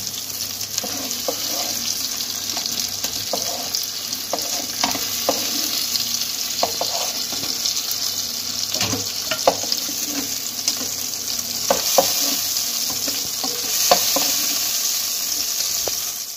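Continuous sizzling of fish frying in oil, with scattered clinks and scrapes of a utensil stirring throughout, close and fairly loud.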